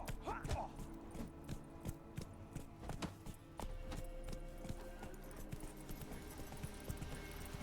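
Horse hooves gallop in clip-clop rhythm across open ground in the Witcher 3 game world, steady and moderately close over a constant ambient bed of game music and wind.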